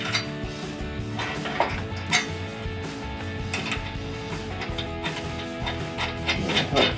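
Steel washer, lock washer and nut being fitted onto a bumper mounting bolt for a Barricade Extreme HD modular front bumper on a 2007-2013 Silverado 1500, giving small close metallic clinks and rattles in a busy, irregular sequence.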